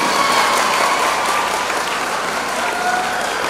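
An audience claps at a school award ceremony at AEPMHSS Irumpanangadu. The applause is loud, dense and continuous, with many hands clapping steadily throughout and no pauses.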